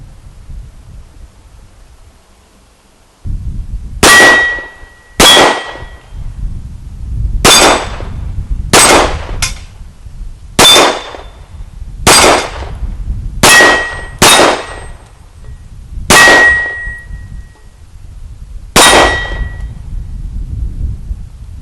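Ten sharp shots from a Sig Sauer 1911C Scorpion pistol ring off steel targets in uneven bursts, each crack followed by a bright metallic clang, loud and close with no talk.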